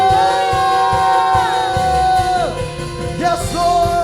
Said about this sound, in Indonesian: Berikan sorak-sorai bagi Tuhan Yesus.